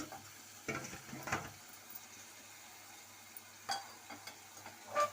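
Ridge gourd thokku is stirred in a frying pan, with a few soft scraping strokes over a faint, quiet sizzle that comes and goes.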